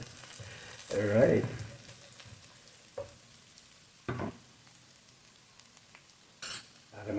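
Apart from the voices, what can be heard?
minced garlic sizzling in frying pan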